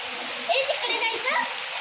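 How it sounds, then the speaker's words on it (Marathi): Steady rain hiss pattering throughout while a voice talks over it. "पाऊस पडतोय तर हा आजचा व्हिडिओ मी इथे स्टॉप करते"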